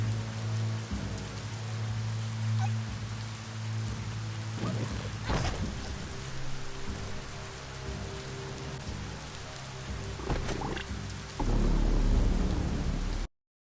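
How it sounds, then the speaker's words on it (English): Steady rain pours across the surface in the video game Biomutant, with low thunder rumbling and cracking a few times and a heavier downpour surging near the end. "It's starting to rain."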